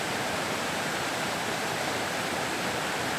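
A mountain torrent rushes steadily and loudly, a dense broadband roar of fast-flowing water with no break and no voices.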